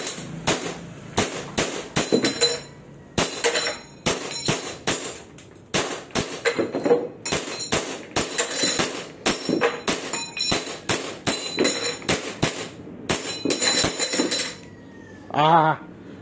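Army Armament Alpha airsoft pistol test firing, a rapid series of sharp, loud, close snapping shots fired in quick bursts with brief pauses, ending in a short mechanical clack.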